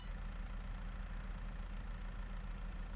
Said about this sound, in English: So let me jump back into the tractor.